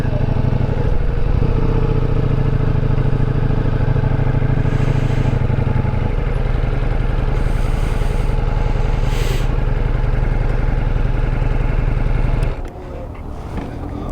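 Motorcycle engines idle and rumble loudly at a bikers' meet, a steady close low drone that holds for several seconds and then drops suddenly to a quieter murmur near the end.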